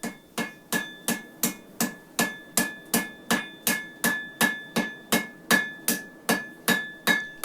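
Steady hammer blows forging the hot end of a cable Damascus wire rope billet near welding temperature: a loud, close series of sharp ringing strikes, about two per second, with nothing else audible.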